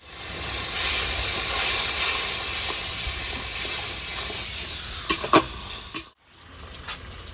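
Tomato paste added to hot oil and spices for prawn kofta gravy, a loud steady hissing sizzle with a few sharp clatters of stirring before the noise drops away.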